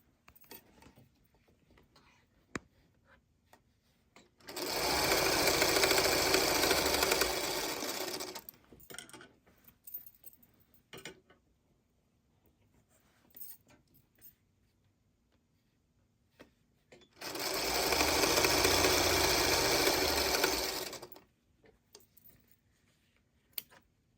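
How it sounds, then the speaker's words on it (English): Sewing machine joining quilt blocks into a row, two sustained close bursts of fast stitching with quiet gaps of small handling clicks between them. "I'm going to go ahead and sew this into a row."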